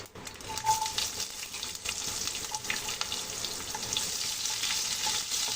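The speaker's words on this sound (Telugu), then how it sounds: "ఆనియన్ గోల్డెన్ బ్రౌన్ కలర్ వచ్చేంత వరకు ఫ్రై చేసుకుందామండి" Onions and garlic fry with mustard and cumin seeds in hot oil for gurugaku dal: a close, crackling sizzle that builds into a steady hiss, with light stirring clicks along the way.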